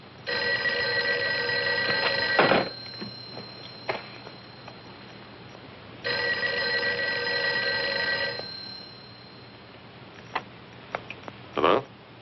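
An old telephone bell rings in two long bursts, each about two and a half seconds with a gap between, set against a quiet room with small ticks and knocks.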